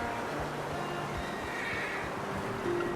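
A horse in Red Dead Redemption 2 whinnies over steady outdoor ambience, with faint hoof clip-clop nearby; a fairly loud, close neigh without talk.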